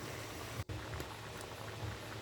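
Soft, steady bubbling of coconut milk simmering in a pot, faint and continuous with a brief dip partway through.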